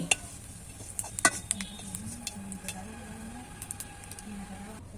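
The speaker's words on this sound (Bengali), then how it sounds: "নেড়ে চেড়ে জিরেটা ভেজে তুলে রাখছি" Cumin seeds crackle softly in mustard oil as they are fried and stirred, faint scattered ticks and pops with a low background hum.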